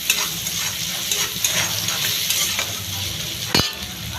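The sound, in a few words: onion being stirred and fried in a pan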